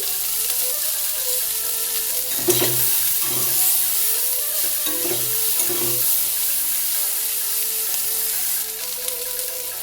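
Leftover rice and vegetables frying in a pan with a little turmeric and chopped green chillies, giving a steady close sizzle with scattered scraping and clinking stirs through the middle.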